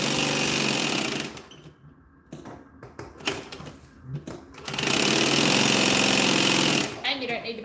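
A sewing machine stitches fabric close by in two loud, steady, rapid runs, with a quieter gap of handling sounds between them.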